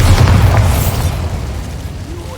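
Loud, close blast from the Bombarda explosion spell in Hogwarts Legacy, a single booming burst that rumbles and fades away over a couple of seconds.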